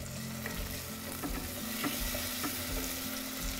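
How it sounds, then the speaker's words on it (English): Onions and tomato with their juices sizzle and fry steadily in a hot pan, a continuous close crackle with occasional stirring clicks and no talking. "So when the onions is cooked, you kind of add the tomato, all the juice up. Just hear it sizzling."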